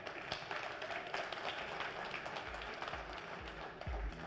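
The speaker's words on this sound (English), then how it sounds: "Can we have a huge round of applause for Bikram and Jen?" Audience applause at a smartphone launch event for the Honor 9X, a steady wash of clapping and crowd noise filling the hall at moderate level throughout.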